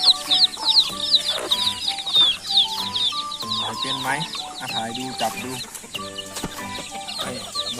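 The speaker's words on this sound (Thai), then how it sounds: "ถ่ายไก่ใกล้ๆหน่อย" Home-raised chickens cluck loudly and near in a continuous flock chatter while someone talks over them.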